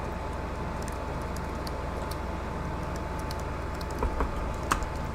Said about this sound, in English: I enjoy keyboard typing, but it's not for everyone, I suppose.